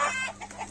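Local hens at a chicken farm near Taukhel in Godawari, Lalitpur, give a quick burst of close clucking, brief and fairly faint, with no talk.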